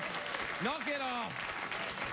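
Studio audience clapping on a late-night talk show, a broad wash of applause under a voice speaking over it with rising inflections.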